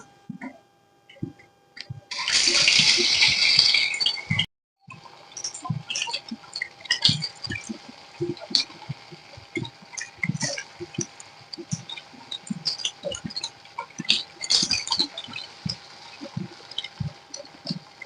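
Poha and egg snacks go one by one into hot oil in a Kerala home kitchen. A loud hissing sizzle bursts for about two seconds, followed by a long run of metal utensil clinks and scraping close by.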